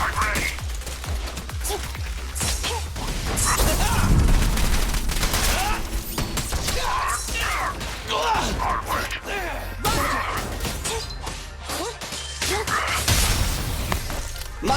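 Gunfire from Zenless Zone Zero comes in repeated bursts and rapid volleys, mixed with impact hits and game effects at a steady, busy loudness throughout.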